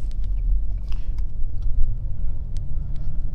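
A 1997 BMW E39 diesel's engine rumbles low and steady from inside the cabin as it moves off, with small clicks and knocks over the drone.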